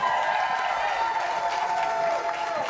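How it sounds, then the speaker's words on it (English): Applause from a comedy club audience in Rhode Island, a steady wash of clapping and crowd noise throughout, fairly loud with a faint tone running underneath. "Clap it up if you're from Rhody."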